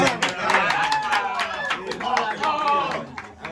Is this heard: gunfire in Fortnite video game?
no